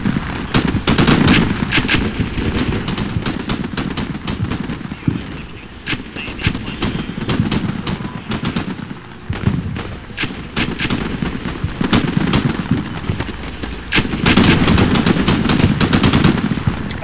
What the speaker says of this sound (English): M240 machine gun teams to also provide covering fire